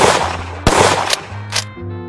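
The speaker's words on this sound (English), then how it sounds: "added a very satisfying ricochet sound for missed gunshots" Gunfire in a Wolfenstein 3D style first-person shooter built in Godot: several sharp, loud shots in quick succession, each followed by a short whining ricochet, over a low steady background drone.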